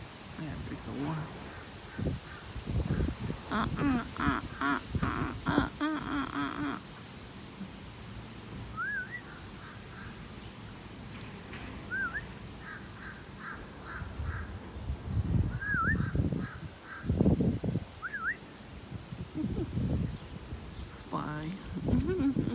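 Several crows caw in short harsh bursts, a few calls spaced across the scene, heard partly under close talk and outdoor rustling and handling noise.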